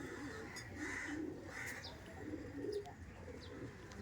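Pigeons of a male and female pair coo softly in low, repeated murmurs, with a few faint chirps and a light flutter against steady background noise.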